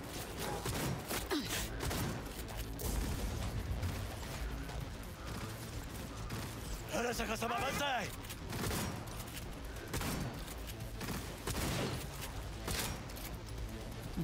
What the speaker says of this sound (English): Keep firing, goddammit!